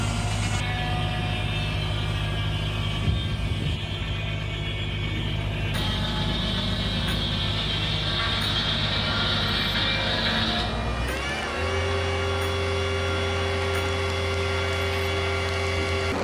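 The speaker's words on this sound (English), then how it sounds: "This is the Fekin Stump X grinder, a truly powerful beast. Its massive engine roars thunderously" A Fekin Stump X stump grinder's large engine runs steadily and loudly with a constant mechanical drone, shifting to a lower, deeper tone about two-thirds of the way through, with no voices present.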